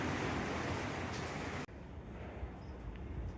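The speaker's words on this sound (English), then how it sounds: "when it rains like this, nobody goes out" Heavy wet-season rain in Kigali, a loud dense roar of downpour that drops abruptly halfway through to a softer steady hiss, with no talking.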